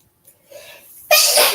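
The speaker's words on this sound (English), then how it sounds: "I knew I had to sneeze." One person sneezes: a short breathy intake building up, then a single sharp, loud burst up close that fades over a fraction of a second.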